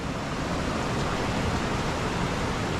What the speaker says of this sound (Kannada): ನೋಡ್ರಿ ನೀರು ಹೆಂಗೆ ಹರಿತೈತೆ